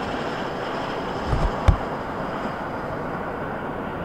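A CSX Q561 freight train rolls past on a cold, snowy, 10-degree day in western New York, heard as a low, steady rumble under gusty wind noise, with a couple of brief heavy thumps midway.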